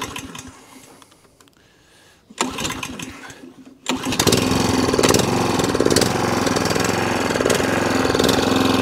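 A Qualcast 35s petrol cylinder lawn mower engine sputters briefly, then catches and revs up to a loud, steady, close-up roar that holds to the end.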